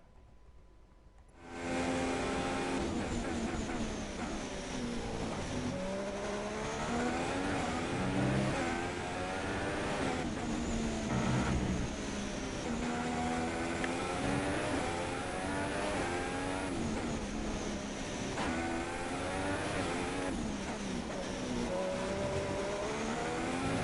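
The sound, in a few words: Ferrari F1 car engine on a flying lap, F1 2016 video game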